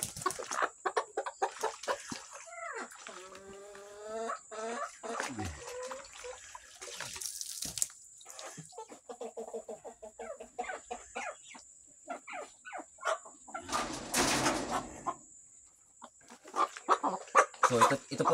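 Pure Brahma chickens cluck and call close by on a farm, with a rooster-like drawn-out call early on and scattered clucks throughout, while someone talks over them for much of the time.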